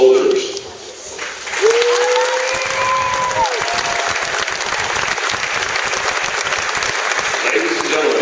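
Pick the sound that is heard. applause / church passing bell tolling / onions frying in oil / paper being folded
applause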